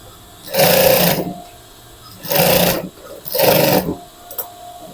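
Three loud, close bursts of a sewing machine stitching a woman's sleeve placket, each run lasting under a second with pauses between, no voices present.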